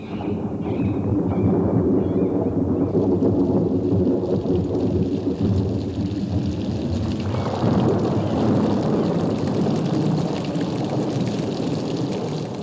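A loud, continuous roar of wind and heavy rain, with a deep rumble surging midway, like a storm building with no voices.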